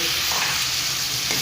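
Chopped tomatoes with ginger-garlic paste hiss and sizzle loudly in a hot pan, a dense, steady frying sound up close with faint stirring and no talk.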